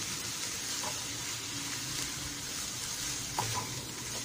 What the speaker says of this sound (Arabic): هنايا حتى غطيب لينا هاد الكفتة هادي